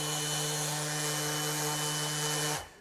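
A Milwaukee M18 FUEL 5-inch random orbital sander with 60-grit paper runs steadily on rough wood, a loud, close, continuous whine with a strong low hum that winds down abruptly at the very end.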